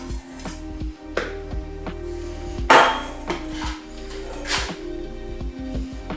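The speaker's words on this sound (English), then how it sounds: "So we want to transfer that into a mixing bowl. Just blob that in there." Food is blobbed from a container into a mixing bowl with several clanks and knocks of utensil against bowl over a low background hum, no talking.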